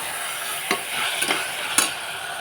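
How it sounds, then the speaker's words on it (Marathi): Red chilli and soy sauce stir-fry in a pan, a soft steady sizzle broken by three sharp scrapes of a spoon at regular intervals, close up with no talking. "दोन चमचा सोया सॉस मी टाकून घेतलेला सॉसही आपण छान परतून घेऊ"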